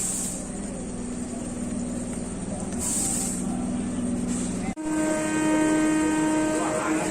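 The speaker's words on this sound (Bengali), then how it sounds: "ঘড়ির কাঁটায় ঠিক 5:40 আমাদের ট্রেন ছেড়ে দিচ্ছে।" A Katwa–Howrah local train pulls away from the platform near Bandel with a steady rumbling hiss heard from inside. The tone shifts after a sudden brief dip as the carriage noise grows slightly louder.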